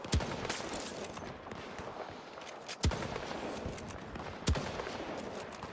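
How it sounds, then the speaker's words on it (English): Gunfire in Battlefield: three sharp, distant-sounding shots spaced a few seconds apart over a steady background hum of battlefield noise. "Who's shooting at me?"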